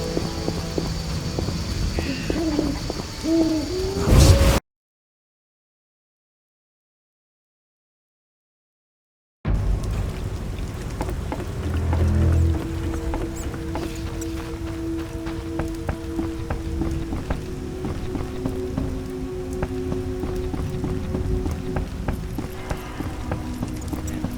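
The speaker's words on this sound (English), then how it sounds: "Raining cats and dogs." Steady rain patters down in The Witcher video game, a continuous broadband hiss broken by a few seconds of dead silence, with hooves clip-clopping faintly through the downpour.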